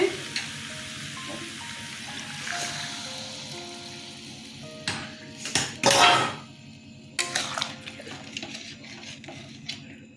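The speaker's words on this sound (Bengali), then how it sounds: "জল দিয়ে দিচ্ছি" Water pours into a pan of mashed, spiced elephant foot yam curry, giving a brief splashing sizzle amid clattering pots and utensils, with no voices.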